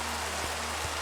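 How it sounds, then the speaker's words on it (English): Steady rain in the video game Minecraft, a dense even hiss of falling drops heard from beneath a low ceiling, faint and continuous with no voices. "when I stand up on a slab, the rain sound changes"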